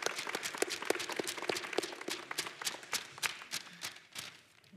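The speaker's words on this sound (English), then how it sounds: "One more round of applause for everyone." Applause at the close of a 2024 Permian Basin Rehab Center telethon broadcast, a steady patter of many hands clapping with sharp individual claps standing out, fairly faint and without voices.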